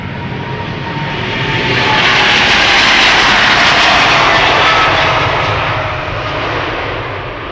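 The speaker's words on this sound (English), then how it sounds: "This is a 9-year-old 777-300 first flight October 2015." A nine-year-old Boeing 777-300 jet departing Amsterdam Schiphol Airport, a loud, close, broadband engine roar that swells to a peak mid-clip and then eases slightly while staying strong, with no talk.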